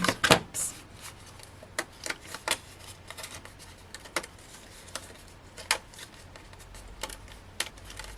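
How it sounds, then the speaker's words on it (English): Small scissors snipping paper pips off a cardmaking embellishment from a Hunkydory magazine free kit, a series of short, crisp, close snips spaced irregularly across quiet room tone. "just snip away those pips"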